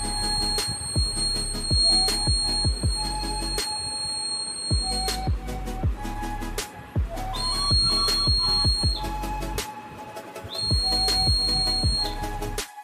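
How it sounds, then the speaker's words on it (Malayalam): A buzzer on a homemade LDR door alarm circuit sounds off, giving steady high-pitched electronic tones that switch on and off in bursts over a busy background with repeated sharp clicks. "ഇപ്പോൾ ഇതിനകത്ത് LDRനകത്തോട്ട് ലൈറ്റ് പതിക്കാത്ത കാരണമാണ് സർക്യൂട്ട് വർക്കായി നമ്മളുടെ ബസറ് സൗണ്ട് ഉണ്ടാക്കുന്നത്"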